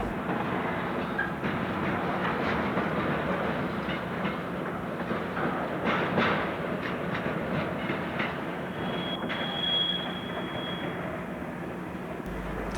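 Railroad cars roll through the Selkirk hump yard classification bowl in a long, steady clattering rumble with rhythmic wheel clicks, and a thin high wheel squeal rises briefly near the end.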